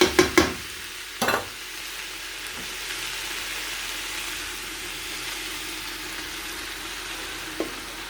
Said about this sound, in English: once you're satisfied with the meat, we can add spinach